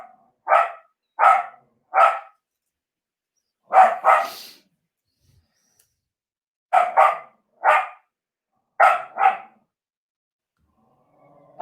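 A dog barks in short sharp bursts, some single and some doubled, loud and close with quiet gaps between, while fireworks go off outside.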